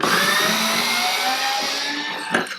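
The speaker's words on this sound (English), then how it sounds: "the next thing we're going to do is remove those 4 hex bolts. Okay, I just need to get my power driver" Power driver backing four hex bolts out of a Harley-Davidson headlight mount: a steady, loud whirring motor hum runs throughout, ending with a brief clack near the finish.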